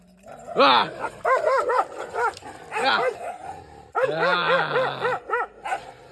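Dogs barking repeatedly in sharp close bursts, with some whining yips and growl-like rumbles between barks.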